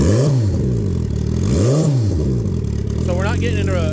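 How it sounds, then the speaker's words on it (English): A 2008 Suzuki Hayabusa GSX1300R Turbo motorcycle engine revs gently twice, each rev rising and falling smoothly over a loud, steady idle, with a faint higher whine near the end. "Sorry I'm talking so loud, but you know, bike's loud. I'll let it rev a little bit more. Gentle rev."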